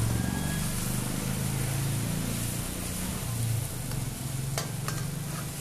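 Pav bhaji with pav bhaji masala being stirred and fried in a pan, a steady close sizzle with scraping spoon strokes throughout, no talking.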